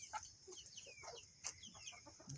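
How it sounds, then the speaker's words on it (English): A chicken clucks right at ground level near the feet, with repeated short clucks close by and a steady high hiss of background ambience. "Chicken right there at my foot."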